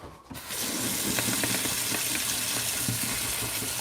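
Paintbrush being swished and rinsed in a water pot during a painting session: a steady, close sloshing and splashing wash with small clinks, starting after a brief quiet moment and continuing evenly throughout.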